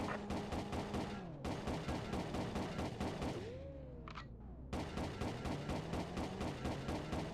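Sustained rapid automatic gunfire in a video game pursuit, a dense rattling fusillade of firearms that pauses briefly, then resumes just as loud and relentless.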